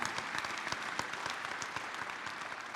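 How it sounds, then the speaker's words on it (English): Steady applause from a conference audience for a panelist, Sister Alessandra, at a congress on AI and enterprise, dense clapping sustained evenly throughout without voices. "let's give a round of applause for Sister Alessandra"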